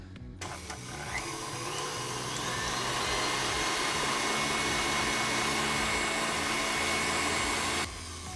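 A stand mixer runs while mixing dough, a steady loud motor whir that starts abruptly, holds constant for several seconds and then drops back down, with no speech.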